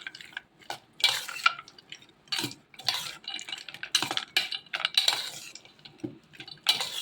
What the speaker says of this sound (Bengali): এখন ভালোভাবে মিশিয়ে নিচ্ছি